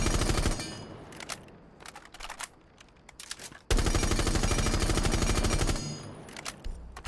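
Rapid automatic gunfire from a weapon in the video game Rainbow Six Siege comes in several loud, dense bursts separated by brief pauses.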